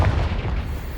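Spell blast from the Hogwarts Legacy video game: one heavy, booming explosive burst with a deep low-end thump that decays over about a second, loud and with no talk.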